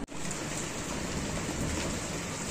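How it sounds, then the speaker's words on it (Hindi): Heavy rain pours down in a sudden downpour, a dense, steady hiss of drops on surfaces that continues unbroken and fairly close throughout. "यार बहुत तेज यहाँ पे बारिश स्टार्ट हो चुकी है"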